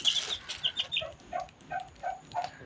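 Tiger breed chickens in Tangail cluck in a quick, steady run of short calls, close by and fairly loud, with no voices.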